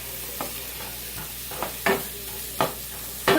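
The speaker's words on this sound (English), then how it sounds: "Now we're going to stir it up." Stuffed-tomato filling is stirred in a frying pan, a low steady sizzle broken by about five brief scraping spoon strokes at irregular intervals, close by with no talking.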